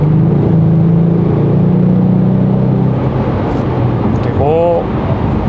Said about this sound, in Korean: 그리고 일반 배기를 켰을 때입니다.